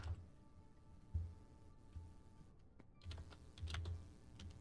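Quiet typing on a computer keyboard, scattered soft key clicks in short bursts with pauses between, close to the microphone in a still room.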